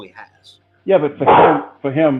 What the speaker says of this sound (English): sorry, that was my dog. So loud.